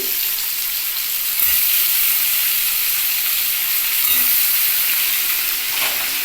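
Steady, loud sizzling of potatoes frying in a hot pan for a fish and mango dish, a continuous hiss with no voices.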